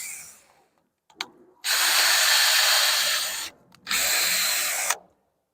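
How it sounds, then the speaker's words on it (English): A power drill pre-drilling holes in wood in two long loud bursts, the second shorter, with brief quiet pauses and a few small clicks before. "pre-drill some holes here."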